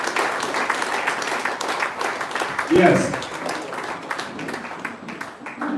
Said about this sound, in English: I think our president deserves another round of applause as he makes his way to his seat